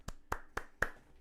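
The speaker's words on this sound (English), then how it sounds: "come on, round of applause." A lone pair of hands claps four times at an even, quick pace, sharp close taps in a quiet room.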